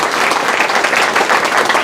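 Audience applause fills the room at a business leadership event, a dense, steady wash of many hands clapping at close range throughout, with no talk over it.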